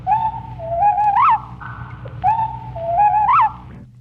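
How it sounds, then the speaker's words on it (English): A slowed-down whippoorwill song, its familiar three-note phrase stretched into five clear whistled notes, plays twice in a row, loud and alone against a faint low hum. "The whippoorwill, for instance, has a well-known three-note phrase"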